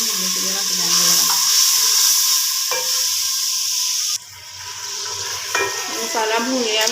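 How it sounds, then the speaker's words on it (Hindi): Masala frying in a pan with a little water added, a loud steady sizzle with stirring scrapes, followed by a sudden sharper hiss as the water hits the hot pan. "तो थोड़ा सा पानी डालते हैं, इसको भूनने के लिए रख देंगे।"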